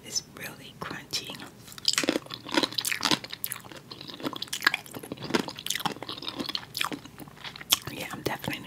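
Close, crisp crunching of food in ASMR eating, irregular bites and chews repeating across the clip, loud against a quiet background with faint breathy mouth sounds.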